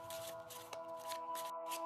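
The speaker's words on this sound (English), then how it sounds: "So you shuffle the cards, you mix the cards," A deck of playing cards is shuffled close by, a steady papery riffle and flutter of cards running through the whole short moment with no voices.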